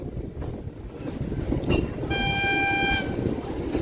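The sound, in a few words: Raptisagar Express train crossing fast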